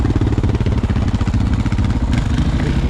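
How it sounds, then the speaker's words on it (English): A 2016 KTM 690 Enduro R single-cylinder motorcycle ridden on gravel roads in Appalachia in December gives a loud, continuous, throbbing engine drone with a rapid chugging pulse and wind rush throughout, heard alone. "KTM 690 Enduro R. Never ridden this older generation."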